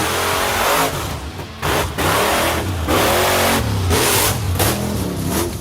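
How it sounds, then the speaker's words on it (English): A monster truck engine roars and revs at a Monster Jam event, loud repeated surges of throttle rising and falling with brief dips between bursts. "bring the roaring world of monster trucks to the big screen"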